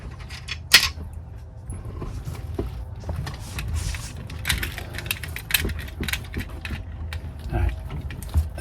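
A ratchet works a bolt loose on a 1991 Lotus Esprit, heard up close as irregular clicks, clunks and metallic knocks with brief pauses between bursts.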